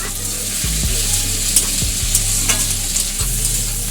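Chopped tomato and fried onions are stirred in a pan with a sizzling, hissing background and repeated scraping, rattling strokes of the spoon, close and steady, with no talking.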